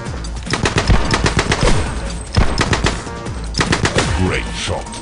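Dense, loud automatic gunfire from the shooter game The Club on the A Bridge Too Far level, nearly continuous rapid bursts close up with only brief breaks.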